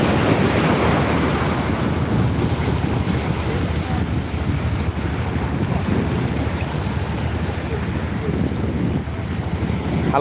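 Sea waves wash in continuously on the rising tide at Digha Mohana beach, a loud, dense roar mixed with heavy wind buffeting the microphone.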